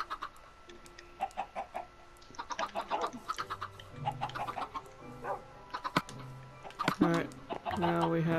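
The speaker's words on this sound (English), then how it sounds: "the egg turned into a chicken!" Blocky chickens in the Minecraft video game cluck in short bursts, mixed in among people talking over them.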